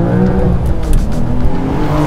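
Engine of a Porsche 911 Carrera S, twin-turbocharged, pulling hard toward the red line, a loud, close, continuous roar with road noise underneath, short and unbroken, no talk.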